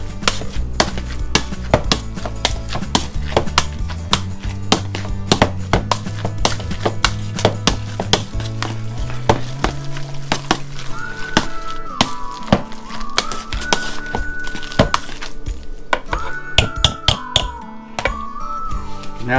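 Grated cheese is stirred into a pot of seafood potatoes, with quick repeated scraping and clinking of a utensil over soft background music.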